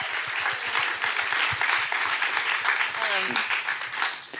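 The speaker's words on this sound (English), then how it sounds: "can we just really clap for her really fast?" An audience at a Q&A for One Big Happy Family claps steadily and densely, filling the room for several seconds, with faint voices surfacing near the end.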